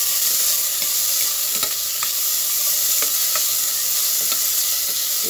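Tomatoes hit a hot pan while cooking sinigang with sapsap fish, giving a steady, close, loud sizzle and frying hiss throughout, with light scattered clicks of stirring and no talking.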